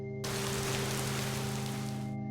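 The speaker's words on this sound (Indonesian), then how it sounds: "Dengan baju basah dan suasana hujan" Steady rain pours down in a film scene, a dense even hiss that starts abruptly and holds for about two seconds before cutting off, with a faint tonal hum underneath and no voices.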